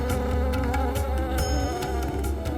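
A swarm of honeybees hovers around their hive, making a thick, steady buzz that stays loud and close throughout, with no one talking.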